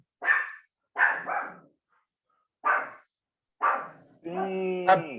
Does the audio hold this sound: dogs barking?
yes